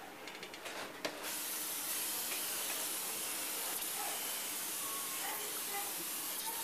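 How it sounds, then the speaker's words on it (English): A light mist coat of paint sprayed over the fuel font of a Coleman 220 lantern during a repaint, a steady, close airy hiss that starts after a second and runs on evenly. "you just spray over your font. You do a real light mist coat first."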